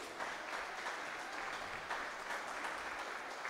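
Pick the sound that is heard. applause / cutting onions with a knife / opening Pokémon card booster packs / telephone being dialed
applause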